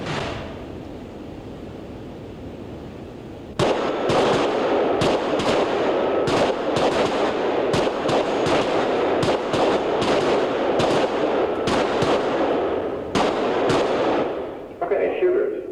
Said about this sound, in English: when the target's faced, I want you to draw and fire 6 rounds